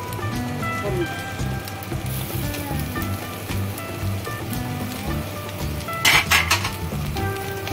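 Egg, prawn and chicken sizzle in hot oil in a pan for mixed fried rice, a steady crackling hiss under background music, with a brief louder spatter near the end.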